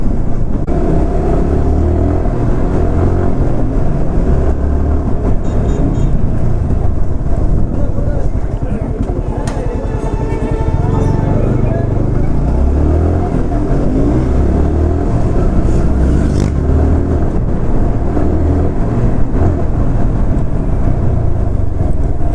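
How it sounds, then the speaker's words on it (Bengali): A Yamaha R15 V4 motorcycle rides alongside an NS200, its engine a steady drone under heavy wind rush on the microphone, with continuous close road noise throughout. "আর আজকে যাচ্ছি আমরা দুইটা বাইক নিয়ে।"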